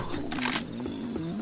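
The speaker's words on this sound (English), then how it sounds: "I can hear a boomer somewhere." A Boomer zombie in Left 4 Dead 2 gives a short, guttural growl that rumbles and wavers over about a second, with faint game noise around it.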